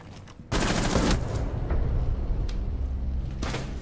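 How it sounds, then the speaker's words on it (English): Gunfire in the tactical shooter Rainbow Six Siege: a loud, close burst of shots breaks out suddenly and keeps rattling, with another sharp crack near the end. "Why did Beaulo shoot?"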